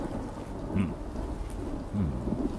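Thunder rolls through steady rain in the game Oknytt, a deep continuous rumble with hissing downpour and faint swells in loudness.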